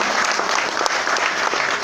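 A seminar audience claps together in a dense, steady burst of applause at close range, lasting a couple of seconds without a break.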